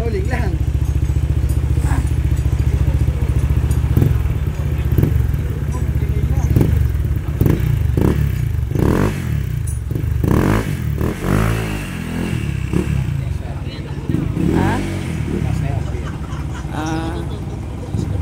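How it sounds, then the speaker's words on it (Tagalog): A motorcycle engine labours and strains under load, a steady low drone with clatter and rising revs, while people talk over it throughout. "Eh, nahihirapan naman yung motor."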